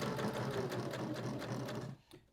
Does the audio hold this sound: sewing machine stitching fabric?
yes